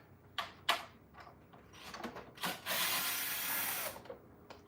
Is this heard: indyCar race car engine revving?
no